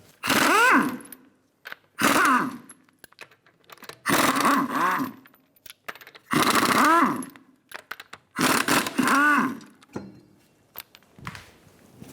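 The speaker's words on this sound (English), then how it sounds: "Using a 21mm socket, remove the lug nuts." Lug nuts come off a Lexus RX350 wheel with a 21mm socket on a power tool, which fires in five loud, close bursts of whirring and rattling, each about a second long, separated by short quiet gaps.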